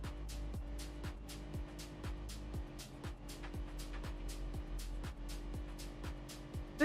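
A wagon's engine in BeamNG Drive revs repeatedly in short rising pulls, each climbing and dropping back in a steady rhythm, with a constant low drone underneath.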